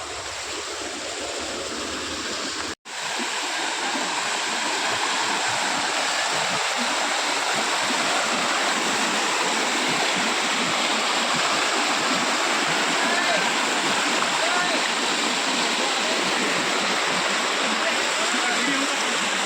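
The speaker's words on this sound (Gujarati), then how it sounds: "અહીંયા પાણી તો ચાલુ થઈ ગયું છે" A monsoon waterfall at Jatashankar, Junagadh rushes in a loud, steady roar of falling water that fills the whole scene, broken only by a brief dropout near the start.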